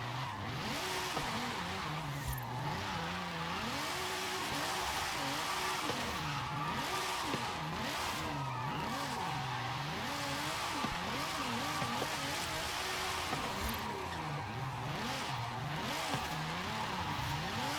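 A drift car in Forza Horizon 5 skids steadily with continuous tire squeal over a roaring engine, its pitch swinging up and down in repeated waves as the car slides, loud and unbroken throughout.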